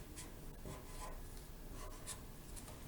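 A pen or marker drawing a straight line across fabric while marking out a reusable grocery-shopping glove pattern, giving a soft continuous scratchy rubbing close up, with a few brief strokes and no talking.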